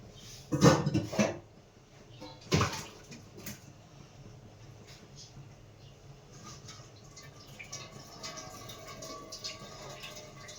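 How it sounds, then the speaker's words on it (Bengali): Boiled fish tipped from a pot into a basket, with two short clattering pours of water and utensils, followed by quiet trickling and dripping as the water drains away. "এরকম একটা ঝুড়িতে আমি ঢেলে দেবো যাতে জলটা ঝরে যায়"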